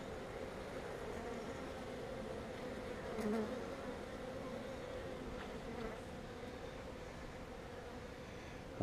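Honey bees buzz steadily in an open hive during an inspection, a soft continuous drone close by with no talking.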